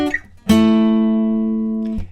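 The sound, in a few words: guitar riff played on two strings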